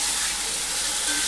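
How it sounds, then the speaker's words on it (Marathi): Brinjal and potato pieces sauté in oil in a pan, giving a steady, dense, close hiss of sizzling that runs unbroken for the whole short stretch. "आणि छान परतून घ्यायचे।"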